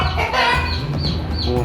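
Black-feathered Indonesian native village chickens cluck close by, the short calls repeating over a steady low barnyard hum with a fuller, busier texture.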